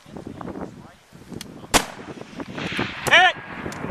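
A precision rifle fires once at a hillside steel target during a sniper match, a single sharp crack that rings out briefly amid scattered talk from the shooters before and after.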